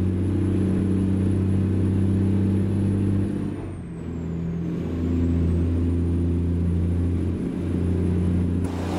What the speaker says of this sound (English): tell me what you think about the truck and the ISX Cummins sound and that trailer